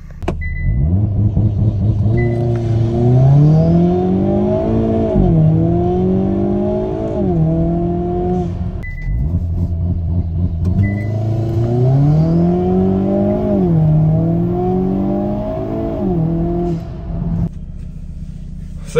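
A Hyundai N car on a traction setup with a new motor mount launches hard twice, each time the engine climbing loud and close through the revs, shifting with a brief dip, then pulling up again.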